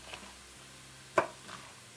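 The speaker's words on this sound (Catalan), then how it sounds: "Anem a tallar el pebrot. He agafat un pebrot italià." A single sharp knife chop through an Italian pepper on a cutting board, one clear crisp strike near the middle followed by a fainter second cut, close and otherwise quiet.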